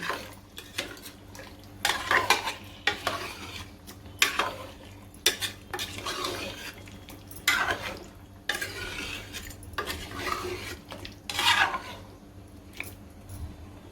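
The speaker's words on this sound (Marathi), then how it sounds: "पहिले एक ग्लास घातलेलं आहे पाणी मिक्स करून घेते" Water being stirred into chicken curry inside a pressure cooker, with a spoon scraping and clinking against the metal pot in repeated close strokes over a steady low kitchen hum.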